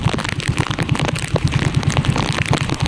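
Rain patters on a small fishing boat at sea off the Philippines, a hissing wash of drops heard over the close, rhythmic low thump of the idling boat engine, steady and fairly loud with no talk.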